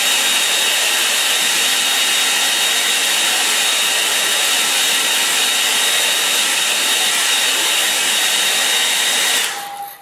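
A hair dryer blows steadily and loudly on a watercolour painting of a spring stream scene for about nine seconds, a constant broadband whoosh that cuts off abruptly near the end.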